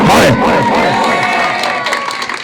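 A crowd at a devotional evening program for Lord Parasnath cheers and whoops, with children's shouts rising over clapping; a loud burst at the start settles into sustained, lively noise.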